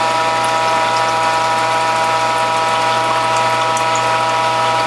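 A WHF juicer pressing tomatoes into juice gives off a steady mechanical hum with a whining tonal drone, continuous and fairly loud throughout, with no talking.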